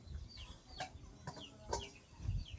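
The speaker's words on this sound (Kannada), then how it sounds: "ಅಲ್ಲಿ ಹುಂಜ ಕೋಳಿ ಮೇಯ್ತೈತೆ." Hens and a rooster scratch and peck at scattered grain outdoors, giving soft, intermittent clucks and brief calls at moderate distance over a low background rumble.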